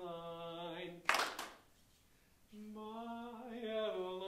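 A rehearsing barbershop choir sings sustained harmonies, breaks off with a short burst of close hand clapping, falls nearly silent for a moment, then resumes singing.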